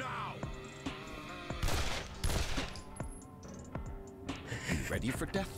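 Rapid gunfire bursts from the Condemned: Criminal Origins video game, sharp repeated shots in quick clusters, loud and close, with someone talking over the shooting.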